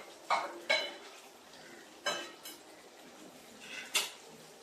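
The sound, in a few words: fried potatoes added and stirred into chicken curry in pot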